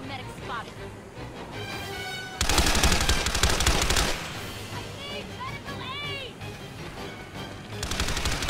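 Gunfire in the game Planetside 2, with a bolt-action sniper rifle in use: a loud, dense burst of rapid shots in the middle, then a shorter volley at the end, over game effects and whooshing sci-fi tones.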